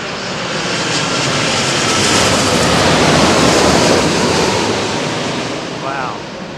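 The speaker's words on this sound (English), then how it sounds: "It's one of the craziest landings we've seen" A jet airliner landing at London Heathrow roars past in a broad, loud wash of engine noise that swells toward the middle and eases off, with wind buffeting over it and a faint voice briefly near the end.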